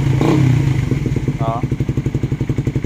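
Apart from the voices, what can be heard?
stock Suzuki Raider 150 motorcycle engine running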